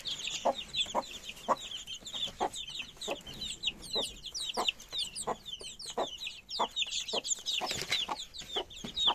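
Hens and chicks in a coop, the hens giving repeated short clucks at a steady pace while the chicks keep up a busy, high peeping throughout.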